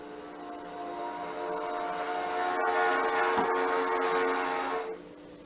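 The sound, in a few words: model train sound module playing train horn demonstration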